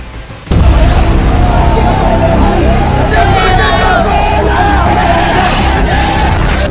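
A crowd at an Owaisi political rally in Hyderabad breaks into sudden, loud cheering and clapping, a dense continuous roar of voices and applause that holds steady close by.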